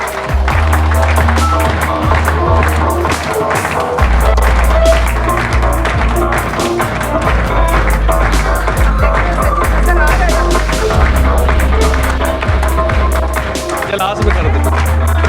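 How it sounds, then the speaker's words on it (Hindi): A crowd at a large celebration in Mandi Bahauddin claps continuously for a cash prize winner, a dense and loud patter of hands over a low, steady background hum. "भरपूर क्लैप कीजिएगा इनके लिए"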